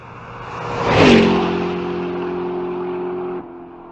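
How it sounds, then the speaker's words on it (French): A car passes close by on a street, its engine note rising to a loud peak as it approaches, then the pitch drops and a steady hum fades as it moves away. "si vous vous tenez sur le bord de la rue puis qu'il y a une auto qui passe, elle fera pas le même bruit lorsqu'elle s'approche et lorsqu'elle s'éloigne"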